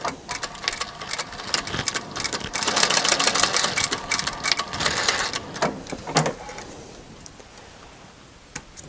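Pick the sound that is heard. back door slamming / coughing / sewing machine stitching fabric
sewing machine stitching fabric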